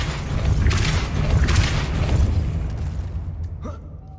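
A Depulso spell in Hogwarts Legacy bursts out as a loud, rushing whoosh with a low boom, fading after about three seconds into a few faint clicks.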